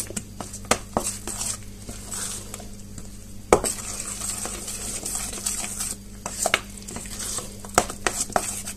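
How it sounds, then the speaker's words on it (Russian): A spoon scraping and clinking against a bowl while stirring flour into pumpkin and cottage cheese casserole batter, with irregular knocks and sharp taps over a low steady hum. "Сейчас помешаю."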